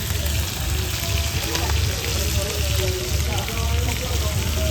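Hilsa fish frying in a pan: a dense, steady sizzle and crackle of hot oil, close and continuous, with a voice speaking over it.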